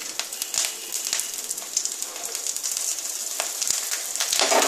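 Cumin, cardamom, cinnamon, cloves and green chillies crackle in hot ghee, a bright, steady sizzle with scattered pops that swells slightly near the end, close and without voices.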